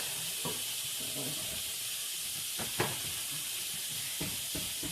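Shrimp sizzles steadily in a hot pan, a constant bright hiss broken by a few soft clinks and stirring knocks near at hand.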